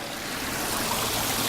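A small custom-built indoor waterfall spilling into a pond, giving a steady, close, broadband rushing and splashing of falling water with no voices.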